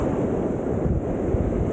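Steady, loud roar of ocean surf breaking on a fishing beach, a continuous wash of noise mixed with wind buffeting the microphone.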